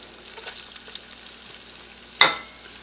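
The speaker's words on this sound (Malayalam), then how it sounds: "ക്യാരറ്റ് ഇട്ടിട്ട് ഇത് നന്നായി ഒന്ന് സോട്ടേ ചെയ്യുക" Carrot sautés in a pan for rava idli with a soft, steady sizzle close by, broken near the end by one sharp clink of a spoon against the pan.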